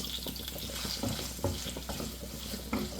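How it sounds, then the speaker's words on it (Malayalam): Onions sautéing with salt in a pan for a chickpea and potato curry, stirred with steady soft sizzling and scraping, a few louder stir strokes standing out, close and alone with no talk. "ഒരു 2 മിനിറ്റ് ഒന്ന് ഇളക്കി കൊടുക്കാം."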